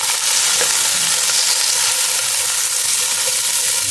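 Crushed garlic and chili frying in a hot pan for pinakbet, a loud, dense, continuous sizzle close up with no break.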